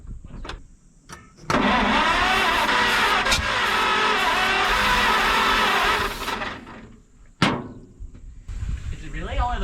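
A Mack B30 bus engine cranks loudly and continuously for several seconds without catching, preceded and followed by a few sharp knocks and clatters.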